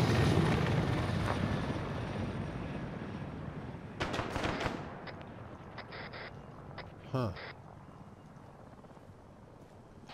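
A helicopter in the military video game ArmA 3 drones as a steady broadband rumble that fades gradually, with a few sharp clicks and a brief interjection from a player over it.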